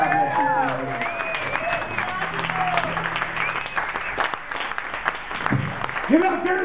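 Sustained applause and scattered cheers from an audience at a San Francisco arts fundraiser, clapping thick and steady with voices and whoops riding over it throughout.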